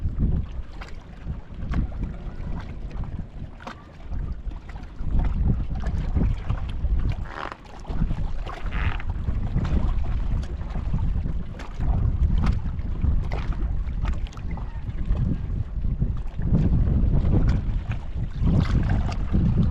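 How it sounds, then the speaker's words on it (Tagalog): A basnig fishing boat's engine starts and keeps running steadily, a low continuous rumble mixed with wind buffeting the microphone and water noise throughout. "Andar na yung basnig."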